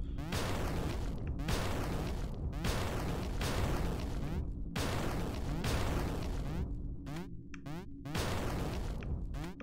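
Repeated heavy bomb blasts in a video game, a series of loud booming explosions roughly every second, each with a sharp crack and a rumbling decay, stacked over continuous game noise.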